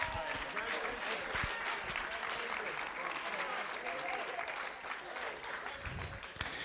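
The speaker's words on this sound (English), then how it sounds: "Let's give these coaches a round of applause." An audience at a Boerne ISD school board meeting applauds coaches, a steady wash of many hands clapping continuously at moderate distance, with faint voices mixed in.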